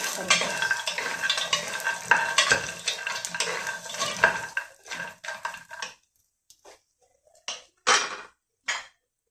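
Dry fruits including walnuts are roasted and stirred in a little ghee, with busy sizzling and scraping strokes that stop midway, leaving a few sparse knocks and scrapes against the pan.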